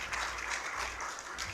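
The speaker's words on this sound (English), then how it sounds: "one more round of applause for our panel" A conference audience claps for a panel at an intellectual property event, a dense, steady wash of many hands sustained evenly through the short stretch with no voices over it.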